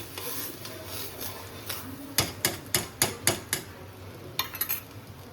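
A spoon mixes spice paste into milk in a cooking pot, with a run of sharp, rhythmic knocks against the vessel, close and clear over a quiet background, then a few more near the end.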